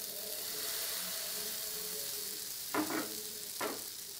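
Batter ladled onto a hot, oiled nonstick pan over a low flame for patishapta crepes: a steady, moderately close sizzle of frying runs throughout, with two brief, brighter bursts of sizzling and scraping near the end. No one speaks.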